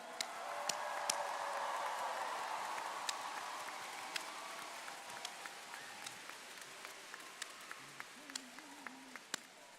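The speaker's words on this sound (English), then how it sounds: "A big round of applause again for our women Gojua dancers" Crowd applause for women Gojua dancers at the 2023 NAIG opening ceremonies: a dense wash of clapping that swells early, then thins out into scattered individual claps, with faint voices underneath.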